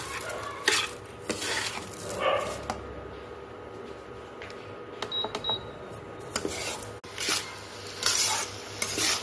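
Sugar melting in a pan for carrot halwa is stirred with a metal spoon, giving intermittent scrapes and clinks against the pan over a soft, steady sizzle, close and moderately quiet.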